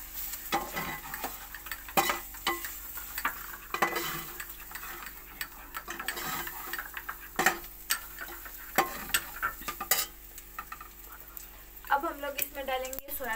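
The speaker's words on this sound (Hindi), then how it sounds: "अब हम लोग इसे अच्छे तरीके से मिक्स करेंगे।" Chicken being mixed with Shan tikka masala in a bowl, with repeated close taps and scrapes of a spoon under a soft background hiss and brief faint chatter near the end.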